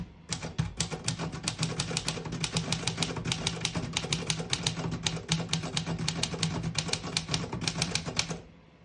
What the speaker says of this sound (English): So I'll type a sentence on this next line in red.